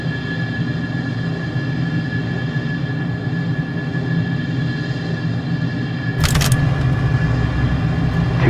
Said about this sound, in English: Positive climb, gear up.